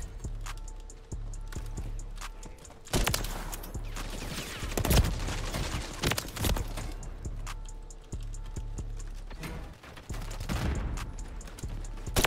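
Rapid gunfire from sniper and other weapons in Modern Warfare 3, sharp loud cracks repeating irregularly across the clip over steady game ambience.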